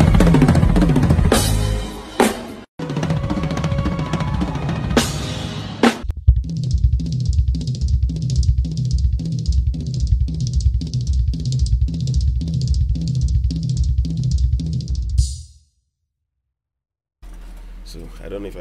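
A drum kit plays a fast chop: a dense opening flurry, then a long run of evenly spaced, rapid hits with cymbal wash, close and loud, ending abruptly, followed by a short burst of further playing.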